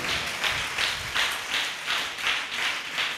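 A church congregation applauding at a worship service, rolling waves of clapping that swell and ease in steady pulses about every third of a second, moderately distant and with no voices over it.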